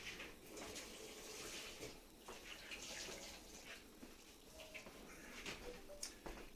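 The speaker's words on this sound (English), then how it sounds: "Give table a quick little rinse off here." Water runs steadily from a tap as a table is rinsed off in a home kitchen, a faint continuous wash with a few small splashes and drips, no speech.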